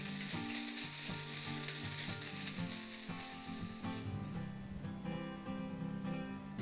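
Bracken fern namul stir-frying with minced garlic, a loud close sizzle with stirring in the pan, steady throughout and mixed with some background music.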